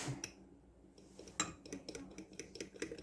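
Flour stirred into a sourdough starter in a container, giving soft, irregular scraping and light clinking taps from a utensil, close and fairly quiet, with no one talking.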